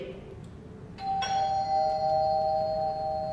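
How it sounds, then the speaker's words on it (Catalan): A doorbell rings once in a house during a stage play, a clear two-tone chime that sustains and rings out over a low steady background hum. "Toquen al timbre."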